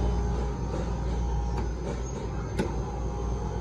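The right-side compressor of an Electro Freeze machine starts and runs as a steady low mechanical hum, with a couple of faint clicks or ticks over the drone.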